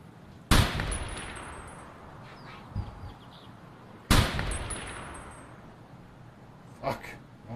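Two sharp, loud gunshots ring out several seconds apart as a player shoots at enemies in a video game. Each shot has a long echoing decay, with fainter clicks and knocks between them and a voice now and then.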